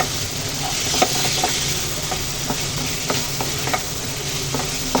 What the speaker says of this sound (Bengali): যে ভাজা আলু আর দুইটা অল্প একটু করলা ছিল যেটা ভেজে নিলাম ওটা দিয়ে দিলাম